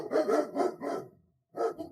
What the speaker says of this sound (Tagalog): Yung mga aso, ang lakas ng kahol nila.